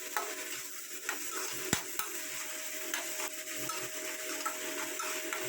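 Tomato masala with leftover rice being sautéed in a pan, a continuous low sizzle under steady stirring and scraping of a spoon, with one sharp knock against the pan partway through.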